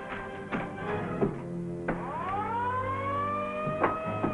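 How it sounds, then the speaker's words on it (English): On board a ship in a 1945 serial, an alarm siren sounds with a rising whooping tone that swells and sustains, punctuated by a few sharp clanks and knocks. "that's the alarm"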